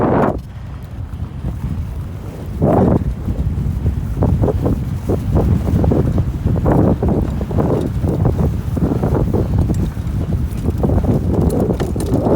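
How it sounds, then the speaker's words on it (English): Strong gusts buffet the microphone during a bike ride on a single-speed bicycle, a loud continuous roar with bursts of rushing noise throughout and no clear speech. "It's too windy though to do wheelie."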